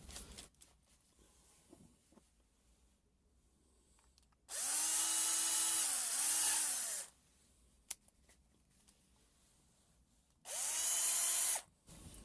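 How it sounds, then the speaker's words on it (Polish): A small cordless drill driver spins a Parkside wood-splitting drill bit for firewood in two loud whirring bursts, each a few seconds long, its pitch rising and dipping under load, with quiet handling sounds between them. "Weźmiemy taką wkrętareczkę, zobaczymy i będziemy później zwiększać"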